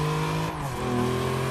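A 1991 GMC Cyclone turbo engine in the racing game Forza 6 launches and accelerates hard, the steady loud engine tone shifting through a gear change about halfway, with a faint tire squeal and no talk.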